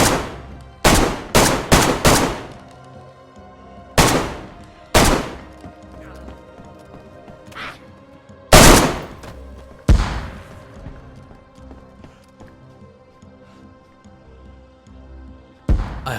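Gunfire in the DayZ survival game comes as a series of sharp, loud reports: a quick burst of several shots, then spaced single cracks with echoing tails and quieter gaps between them.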